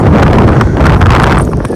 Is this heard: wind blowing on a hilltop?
yes